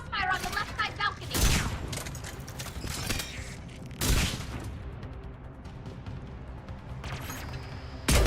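Sustained crossfire in Mass Effect 3 with loud volleys of gunshots and heavy booms, close and continuous across the span, with voices speaking over the battle.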